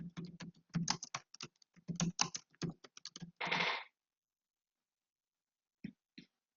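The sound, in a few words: typing on a computer keyboard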